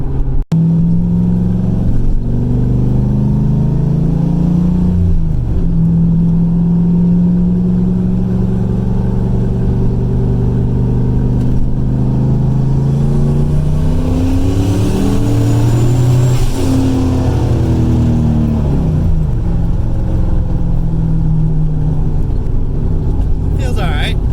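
A turbocharged IROC car with its exhaust open revs and accelerates up close, the engine note climbing and falling through several pulls as someone talks over it.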